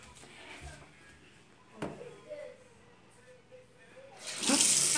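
A tap runs steadily into a sink at a modest level, with a few clunks and knocks partway through before a louder gush of water near the end.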